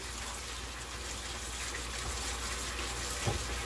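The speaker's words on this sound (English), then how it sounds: "I'm gonna turn the water on a warmish" Warm tap water runs in a steady, even gush while the packing liquid is rinsed off keto Zeroodle noodles, with no one speaking over it.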